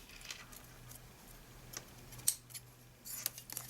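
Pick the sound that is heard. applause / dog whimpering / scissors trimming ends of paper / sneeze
scissors trimming ends of paper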